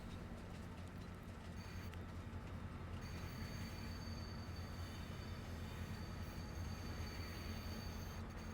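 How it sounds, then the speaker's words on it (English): A train in Farming Simulator 22 rumbles steadily past with continuous rolling wheel noise and faint high metallic whine, fairly close, no voices. "Well, that's a cool train."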